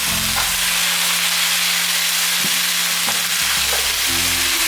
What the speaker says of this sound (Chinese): 平均沾上橄榄油后，让它慢慢煎